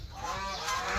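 Ducks honk and quack in a brief noisy burst as they gather for feed, several birds close together and fairly loud.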